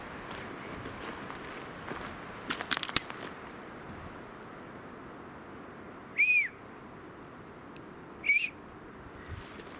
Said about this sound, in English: I used to be able to whistle like that.